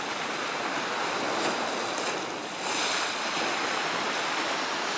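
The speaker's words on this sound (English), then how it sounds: "I always like to see crashing waves" Steady roar of ocean surf washing onto Barmouth beach, continuous and fairly loud, with a brief dip before the waves surge again.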